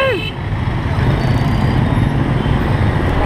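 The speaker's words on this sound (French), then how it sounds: "Par contre avec toute cette circulation" Dense, loud road traffic in a Vietnamese city, with a steady rumble of engines passing close by and a short falling tone at the start. Faint voices may sit under the din.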